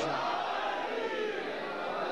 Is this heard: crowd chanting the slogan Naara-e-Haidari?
yes